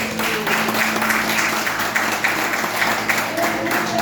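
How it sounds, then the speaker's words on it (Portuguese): A church congregation applauds the Lord during a sermon, a loud continuous clatter of many hands over a low, steady humming drone that runs underneath throughout. "Você pode aplaudir o Senhor, irmão?"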